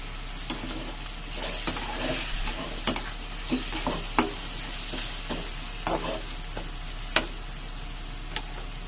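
Chicken fries in its own fat in a covered pot for tinola, giving a constant soft sizzle broken by scattered ladle clicks and stirring scrapes every second or so.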